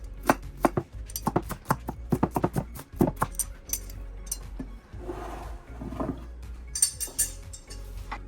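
A knife chops onions on a cutting board for biryani prep, a quick series of sharp close taps in bursts with short pauses between.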